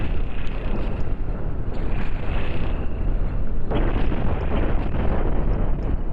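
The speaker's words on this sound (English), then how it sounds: "nuclear torpedo systems are definitely explosive" Nuclear torpedo explosions in the space-combat game Cosmoteer as a burning wreck is destroyed: a dense, continuous roar of overlapping blasts with heavy low rumble, swelling again near the end, loud throughout.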